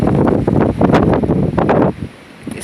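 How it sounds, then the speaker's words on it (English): Strong gusts of wind in a cold snowstorm buffet the microphone in loud, irregular bursts, dropping briefly before picking up again. "it's very windy"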